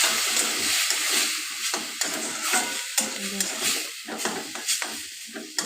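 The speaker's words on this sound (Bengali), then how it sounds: "জল দিয়ে ভালো করে নাড়াচাড়া করতে হবে।" Semolina upma being stirred in a pan after water is added, a steady close scraping and stirring with a soft sizzle beneath, rhythmic spoon strokes against the pan.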